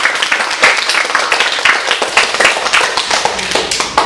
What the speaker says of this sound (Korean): 지금 이렇게 인사를 한 4명의 학생을 위해 격려의 박수 부탁드립니다.